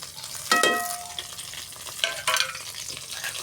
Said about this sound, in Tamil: எண்ணெய் சூடானதுக்கப்புறமா வரமிளகா சின்ன வெங்காயம் போட்டுக்கிட்டு தாளிச்சிக்கலாம்.